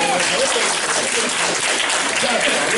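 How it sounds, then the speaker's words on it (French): An audience at a solo championship award ceremony applauds, a dense, loud, continuous wash of many hands clapping throughout, with no pause. "C'est une bonne nouvelle, vous pouvez vous applaudir déjà."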